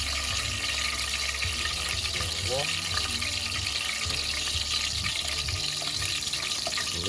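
A kitchen tap runs steadily into a sink while flour is washed off hands during Jamaican-style fried chicken preparation, a constant close hiss of water with faint clatter, under a person talking.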